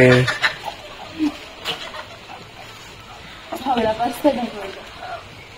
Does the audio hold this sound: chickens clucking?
yes